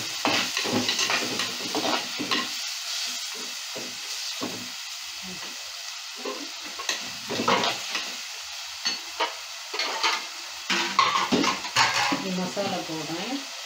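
Tomatoes and salt sauté in a clay pot for fish curry. A spoon scrapes and stirs in uneven bursts over a low sizzle, close and moderately loud, with brief quieter gaps between strokes.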